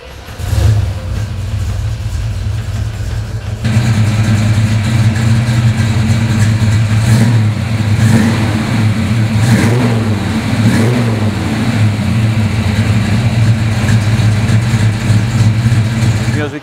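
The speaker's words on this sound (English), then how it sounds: "So I'm going to start it for you so you can hear how it sounds." A 1967 Chevrolet Chevelle SS396, built to 375 specs, cranks and fires up, then settles into a loud, deep, lumpy running rumble with occasional revs, heard up close with some talking over it.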